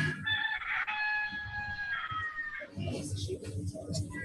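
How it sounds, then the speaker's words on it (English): A neighbour's rooster crows once from some distance, a drawn-out call that rises and then falls away, followed by muffled room noise and faint voices. "Someone's rooster just woke up."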